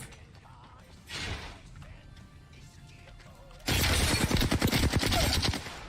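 A weapon reloads in Apex Legends with a few mechanical clicks and a creak. Then a loud, dense burst of rapid gunfire runs to the end.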